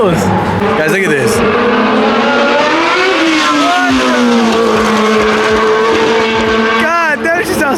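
A BMW E46 drift car swapped with a 2JZ engine and fitted with a hood exit, its loud engine drone close and steady with revving pitch sweeps, while people talk over it at a Formula Drift street event in Long Beach.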